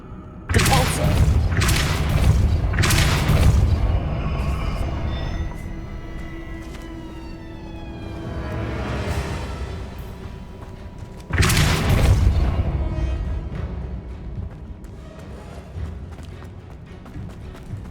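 Depulso spell blasts in Hogwarts Legacy hit as heavy, close booms: a cluster of loud thumps at the start, a swelling whoosh in the middle and another strong blast later, with some speech in the mix.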